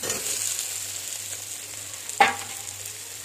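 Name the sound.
stirring fried potatoes in a pan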